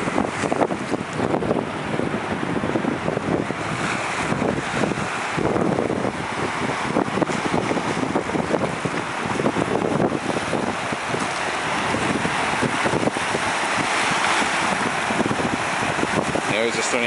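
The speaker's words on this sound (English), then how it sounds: "The wind is blowing so hard." Strong wind buffets the microphone at Lake Superior, a loud continuous roar with waves in the background and a person talking intermittently underneath.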